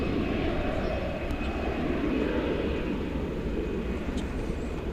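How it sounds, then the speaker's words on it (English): An American Airlines Boeing 737-800 arriving at DFW Airport on a flight from Albuquerque, heard as a steady, loud jet roar that holds evenly throughout without any voices. "We've got American Flight 9 coming in from Albuquerque, New Mexico."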